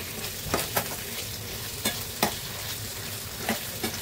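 Chili sauce and soy sauce are stirred into soybeans in a sizzling pan, with a steady fry hiss broken by sharp scrapes and clanks of a spoon at irregular intervals, close and alone.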